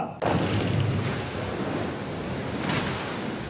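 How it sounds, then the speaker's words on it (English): Recreated tsunami water for a film surges as a heavy, roaring wash of waves that starts abruptly, stays loud and close, and builds again near the end. "you need to recreate a tsunami in a very realistic way"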